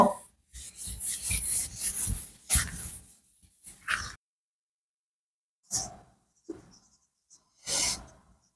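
Pen or marker writing out a maths note, heard as several close scratching and rubbing strokes in short bursts separated by silent gaps.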